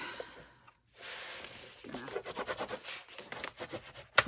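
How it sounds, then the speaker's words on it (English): A paper fold in a handmade junk-journal lapbook is burnished down with quiet, close, repeated rubbing strokes after a short pause. "burnish that fold down really well"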